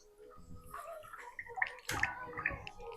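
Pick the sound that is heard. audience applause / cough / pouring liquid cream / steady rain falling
pouring liquid cream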